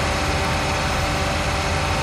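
A tractor engine idles in Farming Simulator 19, a steady low droning rumble with a constant hum, loud and unbroken throughout.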